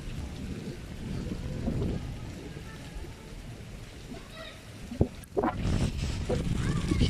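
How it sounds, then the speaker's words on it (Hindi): Heavy rain pours steadily outside a mud-walled village house during a wind and rain storm, a dense close wash of noise with a few sharp knocks and bumps near the end; no clear voices. "बारिश काफ़ी तेज़ है"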